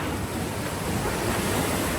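Steady roar of ocean surf at Siargao with wind noise buffeting the microphone, continuous and loud with no breaks.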